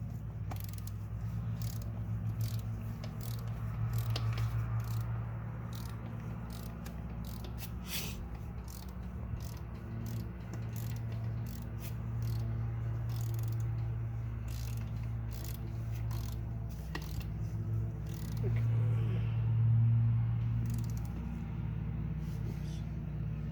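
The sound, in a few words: torque wrench tightening Audi S5 oil filter housing bolts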